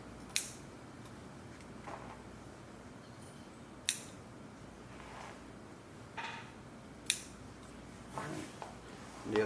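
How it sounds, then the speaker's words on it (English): Scissors snipping curves into shirt fabric at a sewn neckband, quiet sharp clicks of the blades closing, five or six separate cuts at uneven intervals over a hushed background. "we're going to cut curves just where the curve is"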